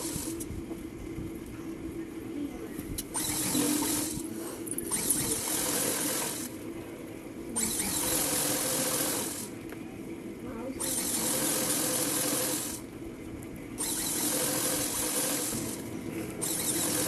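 Sewing machine stitching the side seam of a pair of pants, running in several bursts of steady mechanical whirring with brief pauses between them, close and fairly loud.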